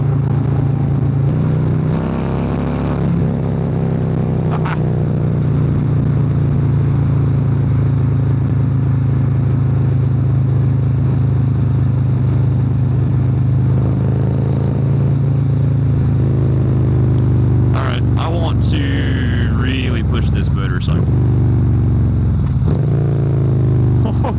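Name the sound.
Harley-Davidson Road Glide Special 131 motorcycle riding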